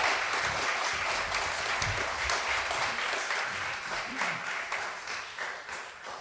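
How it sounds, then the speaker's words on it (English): An audience at a culture night in 2020 applauds two musicians, steady dense clapping that holds for several seconds and slowly thins toward the end. "So a big round of applause for them,"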